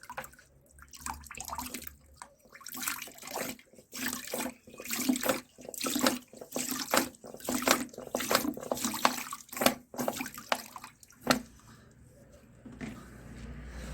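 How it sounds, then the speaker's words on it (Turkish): Latex being added to and mixed into water in preparation for waterproofing a shingle roof, a soft, close stream of splashing and sloshing liquid that pulses irregularly before trailing off, with no talk. "Suyumu hazırladım. İçine lateksimi katıyorum."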